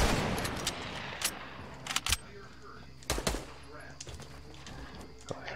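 Gunfire in Fortnite on PC, with quick bursts of rapid shots and scattered single cracks at uneven intervals, fairly close, amid game noise and low background sound.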